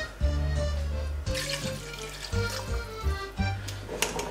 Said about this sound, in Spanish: Vamos a añadir 2 vasos de agua más